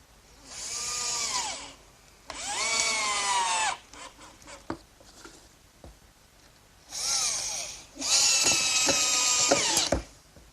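A power drill drives screws into a wooden workbench top in four long bursts, each whining as it winds up and down, with light knocks and handling between them.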